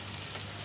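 Garlic sautéing in a pan, a steady close crackling sizzle with no voices, brief and even in level.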